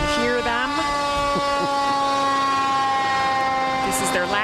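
A Brooklyn Park Fire Department ladder truck, Tower 21, sounding its siren in the Osseo Lions Roar parade, a loud steady wailing tone held close throughout, with short whooping sweeps near the start and end.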